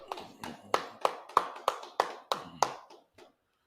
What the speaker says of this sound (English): Yeah, clap it up, clap it up.